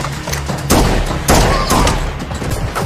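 Heavy gunfire from the 2017 action film John Wick: Chapter 2, including an AR-15, with loud overlapping shots and thumping impacts in close succession over a dense, continuous action-scene backdrop.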